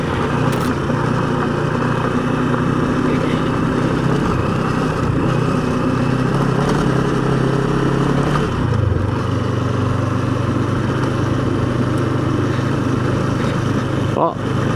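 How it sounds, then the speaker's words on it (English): Scrambler-style motorcycle on gravel tires rolling over a washboard gravel road, a steady mid-pitched engine drone with constant rumble and chatter from the rough surface, close and continuous throughout. "this is where it gets a little more adventurous, a little more off-roading. Thankful for scrambler style bike and some gravel tires"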